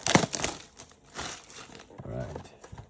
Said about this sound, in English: let's open up the pack here